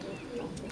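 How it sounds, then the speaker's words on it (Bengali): An imported Oman teddy pigeon pair of Sakib bloodline gives a brief, close, low, throaty coo lasting under a second, with faint background murmur. "এখন স্ক্রিনে যে কবুতর জোড়া দেখতে পারতেছেন, নটটা সরাসরি ইম্পোর্টেড কবুতর"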